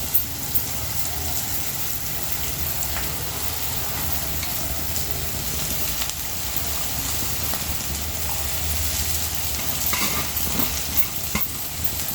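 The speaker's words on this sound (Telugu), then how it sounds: "ఆకు కురేసి మనం ఫ్రై చేసుకోవాలి" Chopped amaranth leaves (thotakura) frying in a pan give a steady, close, fairly loud sizzle throughout, with scraping and stirring sounds from the spatula and no voices.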